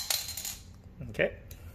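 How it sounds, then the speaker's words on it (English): A Hot Wheels bottle cap opener and carbonator pops the cap off a bottle with a single sharp metallic clink, set among light handling clatter and rustling at close range. "Oh, I got the bottle cap open."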